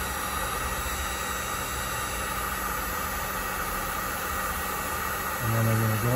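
An air-cooled Volkswagen engine idles steadily during a thermostat test, a dense continuous roar and hum close by that stays even throughout, thickening into a deeper rumble near the end.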